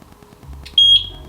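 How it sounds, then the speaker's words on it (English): A single clear electronic beep from a eufy dual camera video doorbell during syncing rings out, steady and high-pitched, lasting a fraction of a second over faint background noise. "There is the beep."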